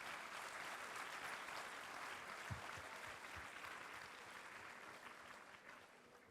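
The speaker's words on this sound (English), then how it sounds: "Can I have a special round of applause for all the panelists here?" Steady applause from a conference audience for the panelists of a corporate panel discussion, a soft, distant-sounding wash of clapping that gradually fades over several seconds.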